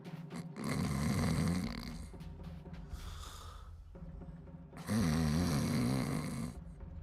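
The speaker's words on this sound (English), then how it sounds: "And some very loud snoring" Loud snoring from sleeping characters in the fantasy role-playing game Pillars of Eternity, two long rasping snores with a quieter breath between them, close and heavy.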